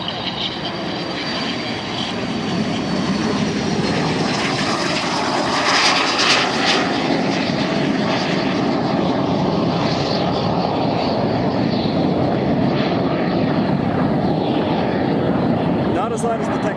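A propeller airplane passes at a Mustang air show, a steady distant drone that builds slightly and holds without a sharp peak, with a fairly quiet, broad engine hum.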